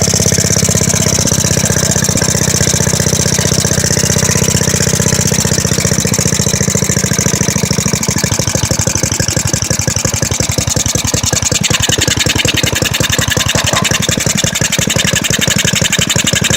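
A small Briggs & Stratton engine runs loud and continuously, its rough, uneven firing shifting toward a steadier, faster pulsing as the mixture is adjusted leaner.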